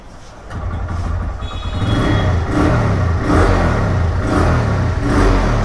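A second-hand TVS Raider motorcycle engine runs during a test, with a steady loud drone that swells into repeated revs and stays close throughout.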